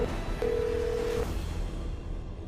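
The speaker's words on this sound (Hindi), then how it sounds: "उसके जाते ही खावला ने ऑफिस के फोन से ही रॉबिन को कॉल लगाई।" An office desk phone gives a short burst of dialing tones, a steady keypad beep held for under a second over quiet room hiss, with no talk.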